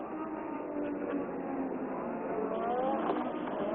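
Nigel Mansell's Formula 1 car runs down the pit straight at the Canadian Grand Prix. Its high-pitched engine wail holds steady and rises slightly in pitch toward the end, sounding muffled and thin as if from a broadcast.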